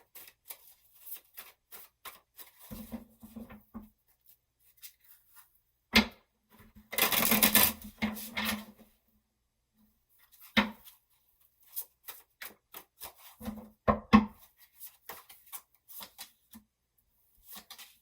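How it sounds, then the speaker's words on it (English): Tarot cards being shuffled and drawn at a table: soft scattered riffles and taps, a louder sustained shuffle burst near the middle, and quiet card flicks and placements spread across the rest, with no talk. "I'm going to pull 8 cards and then yours."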